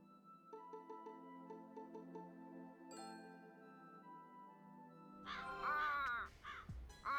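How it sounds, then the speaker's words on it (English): Crow cawing in the video game Root Letter, a few harsh caws over soft chiming background music, clear and fairly near, with no speech. "Oh, another crow. That damn crow again."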